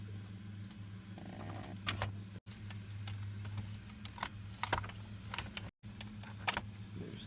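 A radio unit being eased out of the dashboard of a 2018 Chevy Colorado, with scattered plastic clicks, scrapes and rattles over a steady low hum and a couple of abrupt cutouts.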